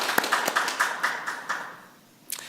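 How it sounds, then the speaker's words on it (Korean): A church congregation at an Easter worship service claps in a quick, fairly steady rhythm of roughly a dozen claps. The sound is moderately close but not loud. It stops, and a single faint clap follows. "부활하신 주님께 한번 박수로 찬양 드리겠습니다"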